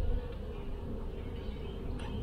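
Honeybees hum in a steady, dense drone from an open nucleus hive during an inspection, close and continuous with no pauses.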